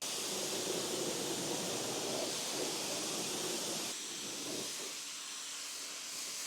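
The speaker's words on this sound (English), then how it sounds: "Same process, we're going to rinse from top to bottom, from a distance." A water spray rinses a car engine bay from a distance, a steady, close hiss of spray that drops slightly in level partway through, with no talking.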